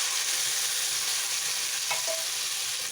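Green peas fry in a hot pan while being stirred, giving a steady, close sizzle throughout with a brief scrape of the spoon near the end; no one speaks.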